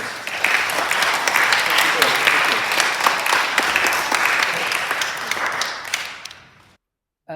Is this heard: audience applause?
yes